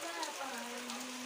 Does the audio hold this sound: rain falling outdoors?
yes